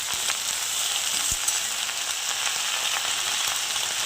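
Pumpkin leaves frying in a pan give off a steady, close sizzle, with a few soft scrapes as they are stirred and no talking.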